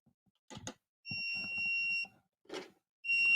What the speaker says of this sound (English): Say, Dale, does the remote have a find me alarm?